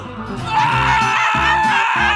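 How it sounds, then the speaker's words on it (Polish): A high, strained shriek in a lighthearted challenge game sits under and between voices, rising after a quiet start and holding loud and sustained with harmonic bands. "Dlaczego tak krzyczysz?"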